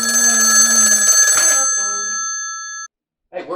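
An old-fashioned phone tune rings out loud and steady as sustained electronic tones that cut off abruptly, followed by a brief muffled sound after a moment of silence.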